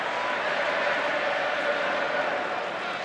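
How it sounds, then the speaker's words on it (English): A rugby league crowd at a Wigan match keeps up a steady broad roar of massed voices, distant and continuous with no clear individual words. "The Wigan crowd breaking out into good singing mood"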